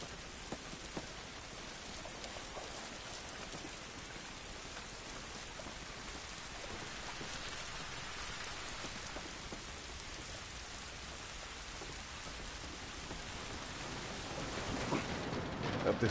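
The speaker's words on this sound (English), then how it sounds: "This rain ain't gonna do us any good." Rain falls steadily in The Last of Us video game, a soft, even hiss of drops on surfaces that carries on alone throughout and swells slightly near the end.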